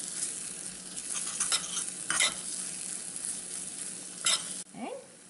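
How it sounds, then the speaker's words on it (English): Spices and tadka with asafetida being stirred in hot oil inside a cooker, steady sizzling broken by several scraping strokes of a spoon against metal and a brief clank near the end. "now I'm mixing all this thing in a cooker, mixing all spices and tadka in a cooker"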